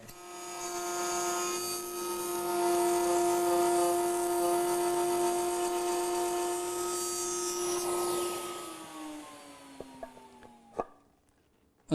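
A router spinning a bit through hardwood to cut mortises for a cool box, a loud steady high whine with a strong tonal pitch that winds down near the end, followed by a few light knocks.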